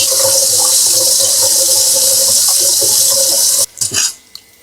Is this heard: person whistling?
no